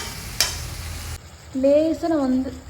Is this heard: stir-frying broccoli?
yes